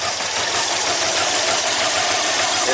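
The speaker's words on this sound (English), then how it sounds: "Let me rev it up a little bit." A rough-running Subaru engine, firing on only two cylinders, revs with a loud, uneven, throbbing close-up roar that stays continuous and unaccompanied through the short stretch.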